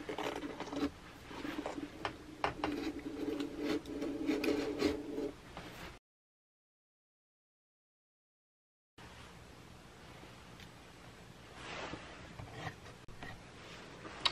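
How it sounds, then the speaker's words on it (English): A sharp utility knife scores and cuts an opening for an electrical outlet box in an RV wall panel: steady close rasping strokes, a pause of silence, then more quiet scraping cuts. "start with a nice sharp new blade on my utility knife"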